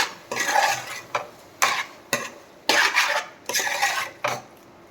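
A spoon scrapes and stirs chicken liver fry in a pan, about eight distinct strokes in a regular rhythm, close and clear with no voices.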